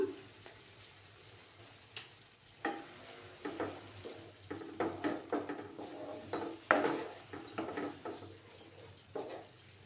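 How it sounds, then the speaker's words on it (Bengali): Spices with Kashmiri chili powder being stirred in a pan for a mustard fish curry, giving a soft sizzle under irregular scraping and knocking strokes that grow busier midway, close and fairly quiet, with no speech. "দিয়ে একটু সময় নাড়াচাড়া করতে হবে।"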